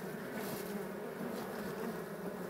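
Bees buzz at a wild hive tucked in a rock crevice in the scrubland, a dense continuous drone of many insects with individual bees flitting close, steady and fairly loud with no voices.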